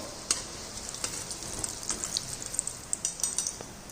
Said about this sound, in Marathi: आपण बाकीचे पण अशाच पद्धतीनं तळून घेणार आहोत